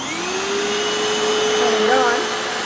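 A Hoover FloorMate Deluxe hard floor cleaner runs in wash mode with a loud, steady motor whine and airy rush, holding an even drone with a slight shift in pitch as it is pushed along.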